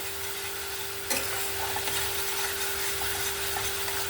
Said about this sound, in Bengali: আবারও আমি একে কষিয়ে নেব এখানে আমার মশলাটা কষানো হয়ে গেছে